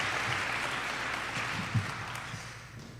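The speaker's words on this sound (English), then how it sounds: "Yeah, you can clap for that." An audience at a school awards night claps for a student, giving a steady, moderate wash of applause from a room full of people that fades slightly toward the end.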